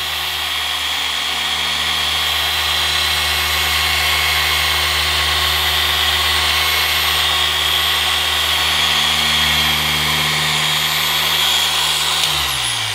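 A car polishing machine runs steadily on paint, a loud continuous motor whine with a tonal hum that drops in pitch as it winds down near the end.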